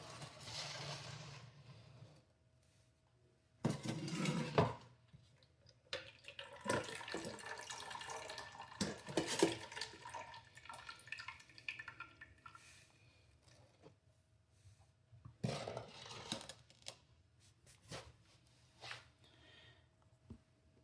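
Water trickles and splashes intermittently from a reverse osmosis filter into a pot, irregular bursts separated by quieter gaps, faint and close.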